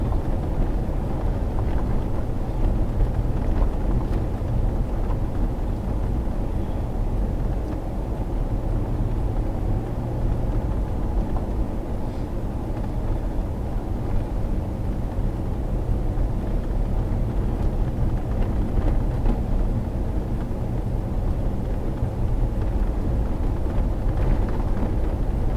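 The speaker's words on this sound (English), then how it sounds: "Driving the main road right now through La Posa South," A vehicle drives along the main road through the La Posa South LTVA desert camping area near Quartzsite, a steady low rumble of engine and tires on the road with wind buffeting, continuous and close throughout.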